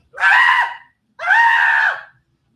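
A comedian on stage imitates a woman screaming into a trash can, giving two loud, strained voiced screams of about half a second to a second each, separated by a short silence.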